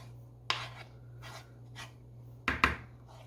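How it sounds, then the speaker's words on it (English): A spoon scraping no-knead bread dough off the inside of a bowl, with a few separate close scrapes and taps, two sharper ones near the end, over a faint steady hum. "just scrape this dough off of here"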